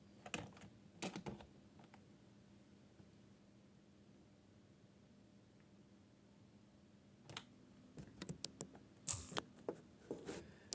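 Quiet computer keyboard typing in short clustered bursts at the start and again toward the end, with a soft steady background hiss between them and no voices.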